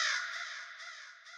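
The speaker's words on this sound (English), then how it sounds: "So I made it add the crow effect right here." A single drawn-out crow caw, loud and close, used as a sound effect in an FL Studio drill beat, with a rasping tone that fades slowly.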